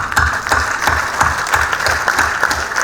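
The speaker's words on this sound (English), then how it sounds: "why don't you give yourselves a big clap?" Graduates at an airline training graduation ceremony applaud themselves, a loud, close burst of many hands clapping in a quick, fairly even rhythm.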